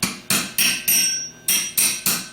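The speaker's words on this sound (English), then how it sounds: "you actually have to take a hammer" A hammer taps a starter bushing into a 10MT starter housing, seven sharp metallic strikes in a fairly even rhythm, close and loud with short ringing decays.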